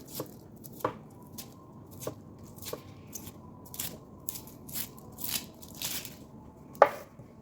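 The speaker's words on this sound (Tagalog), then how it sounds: "Hiwain muna natin yung sibuyas guys." A knife chops an onion on a cutting board, about a dozen quiet, irregularly spaced thuds and cuts, close and alone.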